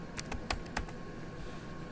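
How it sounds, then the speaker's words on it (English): A few quick keystrokes on a computer keyboard, several sharp clicks in the first second over a steady low room hum, then only background noise. "I hit my gear and I type in the word alert."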